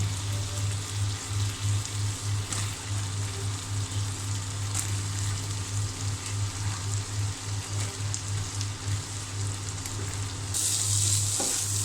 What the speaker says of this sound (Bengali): তো বেগুনটা আর আলুটা ভালো করে ভেজে নেওয়া হয়ে গিয়েছে